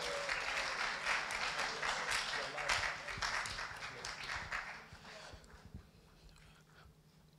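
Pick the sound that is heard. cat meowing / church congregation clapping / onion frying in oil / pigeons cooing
church congregation clapping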